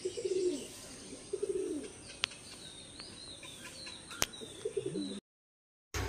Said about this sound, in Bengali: এই রাজা ভাইয়ের 2টো পায়রা, এই 2টো পায়রা চলছে।